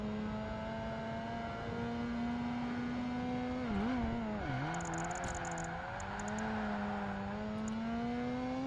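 A Mazda RX-7 racing in Project Gotham Racing 2, its rotary engine holding a high, steady whine that dips briefly through a gear change or corner and then climbs again, with faint tyre squeals.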